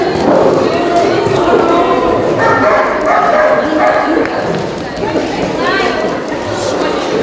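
Police dogs bark repeatedly during a dog training demonstration, sharp and loud bursts amid crowd chatter and people talking in the background.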